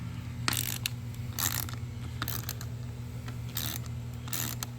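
Locking nuts being loosened one at a time from the steering wheel of a 2006 Mazda Tribute, giving several short bursts of metallic ratcheting and clicking over a steady low hum, fairly close.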